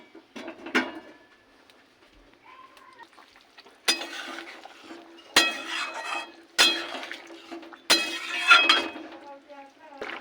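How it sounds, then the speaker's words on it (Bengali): A lid goes onto a pot of potato alur dom, giving several sharp metallic clinks and clanks in a row in a kitchen, with a soft background hum running between them. "এবার ঢাকা দিয়ে দেবো।"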